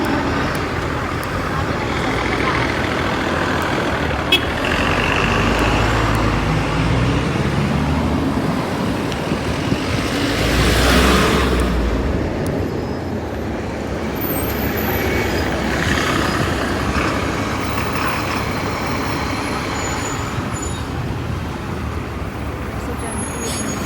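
Heavy road traffic with many cars, buses and trucks passing close by, forming a continuous loud roar that swells around the middle as a large vehicle goes past, with brief hisses and clunks.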